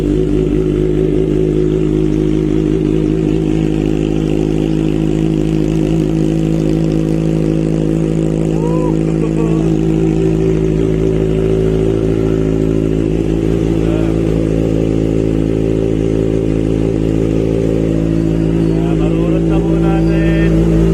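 A motorcycle fitted with a new slip-on exhaust pipe idles and revs loudly and close for about twenty seconds, a continuous deep throbbing drone with rising revs, with a voice briefly audible beneath.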